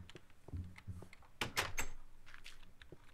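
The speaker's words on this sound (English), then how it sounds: "They're trying to knock down the doors." Zombies bang on a wooden door in Minecraft: several dull, close knocks and thuds in an uneven rhythm, with a louder cluster of impacts in the middle against a quiet background.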